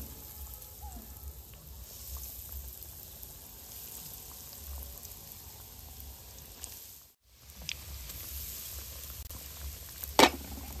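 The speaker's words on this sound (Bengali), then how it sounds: "একটা ব্যাচ একইভাবে ভেজে নেব" A batch of chops fries in hot oil with a continuous, moderately loud crackling sizzle. The sizzle briefly cuts out partway through, then resumes, and one sharper spatter comes near the end.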